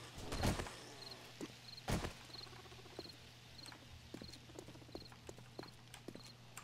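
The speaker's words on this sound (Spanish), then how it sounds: "¿Escucháis las leches, tío? Están pegando la puerta" Rats bang on a door in the survival game 7 Days to Die: two loud thumps early on are followed by a string of lighter, irregular taps and patters, faint and without speech.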